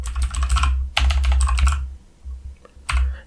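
Rapid keystrokes clatter on a computer keyboard in two dense bursts, followed after a short pause by a single firm press of the Enter key, all close and clear.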